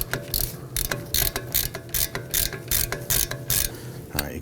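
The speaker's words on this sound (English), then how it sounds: "We're using our 17mm wrench on the inside to hold that pin. And we're going to loosen and remove the outer bolt." A ratchet wrench clicks in quick bursts while loosening a rear brake caliper bolt on a 2018–2024 Toyota Camry, close and fairly quiet, ending with a small metallic clink.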